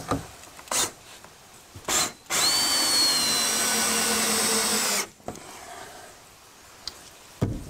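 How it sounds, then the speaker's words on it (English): Power drill with a 3/8-inch socket driving fasteners into a garage workbench: a loud, steady whine of about two and a half seconds, rising in pitch as it spins up, between short bursts and knocks of handling. "now I got my drill ready"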